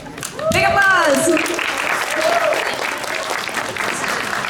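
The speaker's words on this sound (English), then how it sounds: "Big applause!" Audience applause at an anime convention stage show, a loud burst of clapping that keeps going under a voice and cheering early on.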